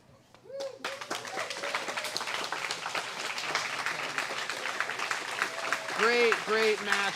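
Crowd applause after a women's pankration bout, steady clapping from a live audience throughout, with a commentator's voice over it.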